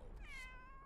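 A cat gives one short, clear meow, fairly faint, with a falling tone against a quiet background.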